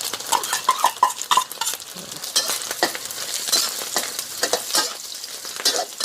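Garlic and chopped chili stir-fry in a hot pan for a Thai dried shrimp and wood ear mushroom dish, giving a steady close sizzle broken by scraping, clattering stirs of the utensil against the pan.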